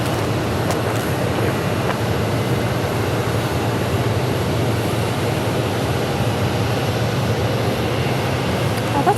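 A United Airlines airliner comes in to land at Phoenix Sky Harbor, a continuous loud engine rumble holding steady throughout, with faint talk in the background.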